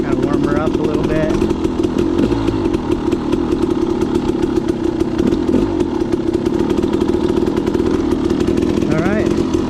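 A dirt bike engine warms up at idle before a ride on Green Mountain, a loud, close, steady rough putter with a slight uneven pulse and small revs near the start and end.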